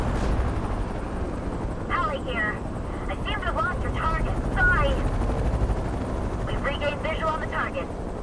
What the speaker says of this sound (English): Chopper on the scene, dispatch.